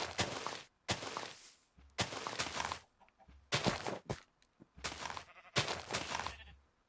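Sheep bleat in the Minecraft video game, a run of about six short, loud, nasal calls in quick succession with brief gaps between them.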